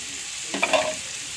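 Bitter gourd fries in a pan with onion, green chili and curry leaves, giving a faint, even sizzle with a brief stir of the pieces midway.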